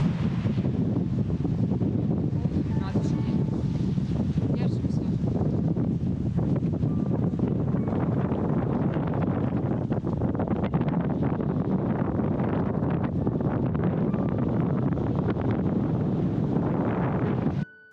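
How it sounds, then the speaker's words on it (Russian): Strong wind buffets the microphone in a steady, roaring rush with low rumbling gusts throughout, loud and continuous, with no voices. "В наши дни пребывания здесь были максимально сильные ветра"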